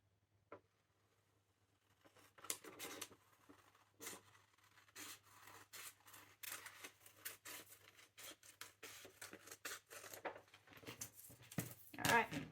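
Scissors cutting through a printed paper sewing pattern, a run of close crisp snips and rustling paper strokes, starting after a brief quiet moment and ending with a louder rustle of handled paper.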